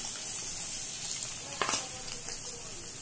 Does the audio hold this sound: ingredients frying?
yes